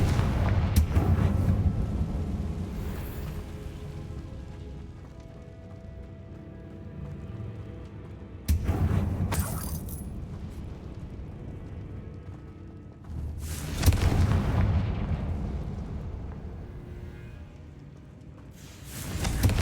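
In the Hogwarts Legacy video game, Confringo spell blasts land as three heavy booming explosions at spaced intervals, each a sharp burst trailing into a rumbling decay, loud and close with no voices.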